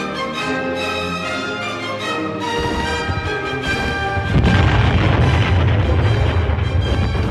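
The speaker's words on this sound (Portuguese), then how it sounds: "inicia-se um violento bombardeamento de artilharia e morteiros pesados" Heavy artillery and mortar bombardment from a First World War battle at La Lys swells into a dense, continuous low rumble partway through, sitting beneath loud music.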